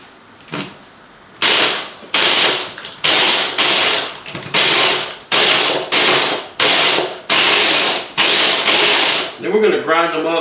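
Cookies being ground into coarse crumbs for a mango cream pie, a food processor or grinder whirring in roughly ten loud, closely spaced pulses of a few seconds each, with a brief softer rattle near the end.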